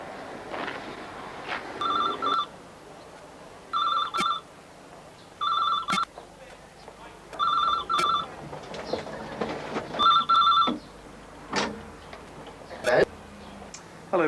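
A telephone rings in repeated short double bursts, moderately loud, with clicks and faint background activity between rings.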